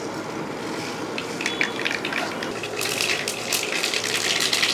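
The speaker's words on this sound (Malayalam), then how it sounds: "ആ വെളിച്ചെണ്ണ ചൂടായതിന് ശേഷം കുറച്ച് കടുക് അങ്ങോട്ട് ഇടുകയാണ്" Continuous hissing and crackling with bursts of sharp pops growing denser toward the end, as mustard seeds sputter in hot coconut oil.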